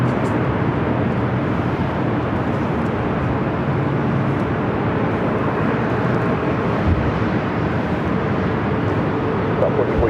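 An Air France airliner takes off at LAX, bound for Paris, with a steady, broad jet roar holding at a constant loud level for the whole stretch.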